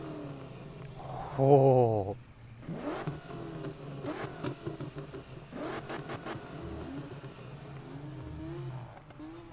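A '69 Mustang Boss in Need for Speed revs with a sharp, loud burst early on, then gives several shorter throttle blips and engine pulls, and a voice briefly exclaims once.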